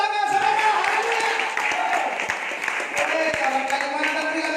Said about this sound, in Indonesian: Tepuk tangan saudara, haleluya